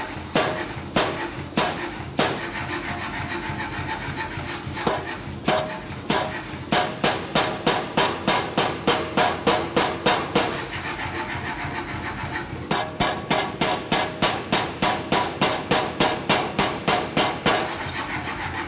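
A power hammer forges a bar of Inconel, striking in steady rapid bursts of sharp metallic blows with brief pauses between runs, over a continuous machine drone; no talking.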